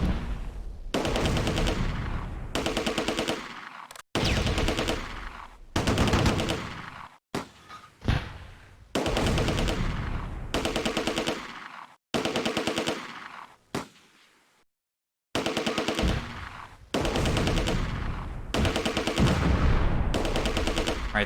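Sustained machine gun fire and gunshots from the World War II strategy game Close Combat: A Bridge Too Far, loud, close bursts in long rattling volleys broken by short gaps, with no speech.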